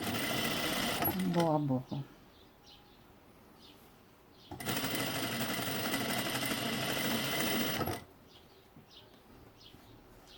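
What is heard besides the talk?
sewing machine stitching bias binding on fabric mask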